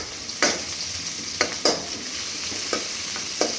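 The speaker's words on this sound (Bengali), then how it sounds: "তেলটা গরম হোক, তারপরে পেঁয়াজ দিয়ে দিব। পেঁয়াজ দিয়ে দিলাম" Onions frying in hot oil for a beef curry: a steady broadband sizzle runs throughout, broken by several sharp spatula scrapes and stirs spaced about a second apart, close and fairly loud, with no talking.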